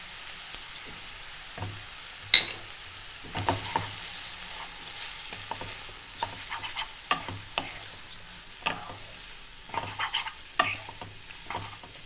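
Chowmein noodles with chili and tomato sauce being stirred in a pan, quiet intermittent scraping and tossing strokes over a faint low sizzle, sparse and irregular with brief pauses between movements.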